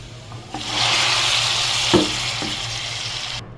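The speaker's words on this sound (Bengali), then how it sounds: "এখন আমি তেল বাগার দিয়ে দিচ্ছি।" Hot oil sizzles loudly and steadily as a tempering is poured over a beef and chana dal curry, with a sharp crackle near the middle and the frying hiss holding until it cuts off at the end.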